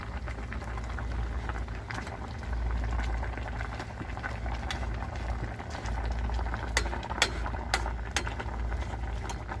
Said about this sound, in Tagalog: Ayan, nakukulo ko na guys.